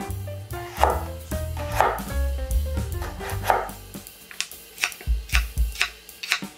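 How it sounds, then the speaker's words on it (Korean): Knife cutting an autumn radish into thick, chunky pieces on a board, with about a dozen firm chops in an uneven rhythm, close and clear. "자, 먹기 좋은 크기로 큼직하게 도톰하게 썰어주세요."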